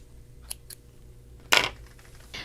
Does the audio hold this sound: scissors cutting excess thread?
yes